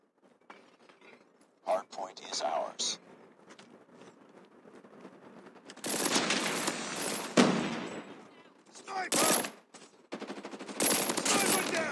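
Bursts of Renetti gunfire in the mobile shooter game Call of Duty Mobile crackle in short rapid volleys with glassy clinks, growing denser and louder in the second half while a player talks over the game sounds.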